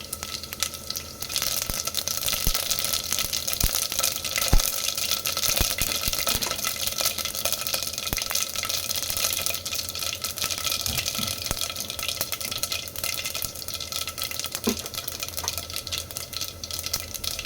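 Garlic, stone flower and mustard seeds frying in hot oil for a Telangana cucumber dal rasam, a loud, steady, close sizzle with faint crackles and pops and no talking.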